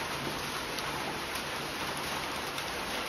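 Steady rain falls with a faint, even hiss and scattered light patter, with no voices over it.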